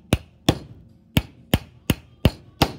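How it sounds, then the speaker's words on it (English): A dowel is hammered down into a wooden upright, seven sharp, evenly spaced blows at a steady rhythm, close and clear with no talking. "And then you're just going to hammer this down."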